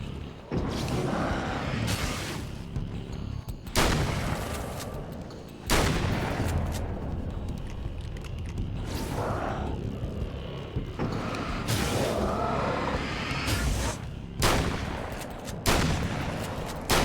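Gunfire in Alan Wake's American Nightmare: sharp, loud shots spaced every second or two, each with a ringing tail over a steady droning background, with no voices.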